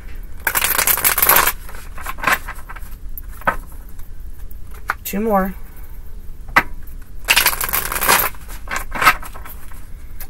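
Bursts of shuffling tarot cards come in short, close riffles, separated by pauses, with a voice speaking briefly and a short sung tone between them.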